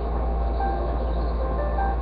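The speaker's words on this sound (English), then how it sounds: "there goes my alarm." A steady electronic alarm tone sounds continuously, with a constant hum underneath and faint warbling beeps layered over it, fairly loud and unbroken.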